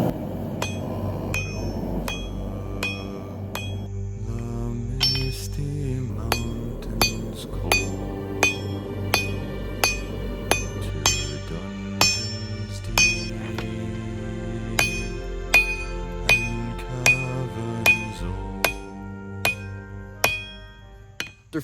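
A blacksmith's hammer beats steel to draw out a sword tang, ringing metallic strikes in a steady rhythm, sparse at first then quickening into regular blows that grow louder toward the end, with no talk.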